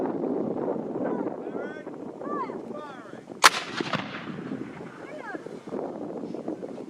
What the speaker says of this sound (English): Like I said, this was 6-pound cannon, capable of firing 3 types of ammunition at the period.